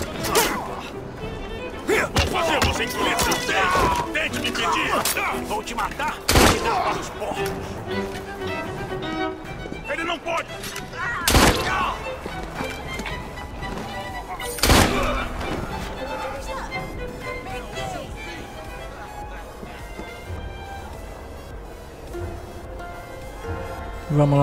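Gunfire in the video game Assassin's Creed Syndicate, a few sharp loud shots spaced several seconds apart amid game combat noise and music, with someone talking over much of it.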